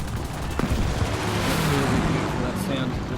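Aircraft cannon and machine guns fire at a B-17 bomber from a Re.2005 fighter in War Thunder, a dense sustained burst of gunfire over engine roar with a sharp report near the start.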